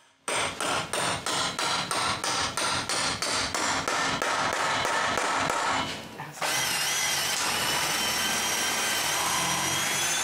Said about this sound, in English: Last thing to do is to drill some holes for the central connecting bolts.